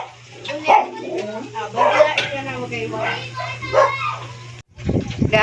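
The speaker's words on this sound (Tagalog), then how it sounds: "nag-ingay na ng aso ko" A dog barks and yips in short bursts at a home kitchen where banana fritters are being fried, mixed with talking close by.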